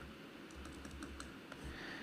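Someone types on a computer keyboard while writing code, a run of soft, irregular key clicks over a low steady background hum, fairly faint and with no talking.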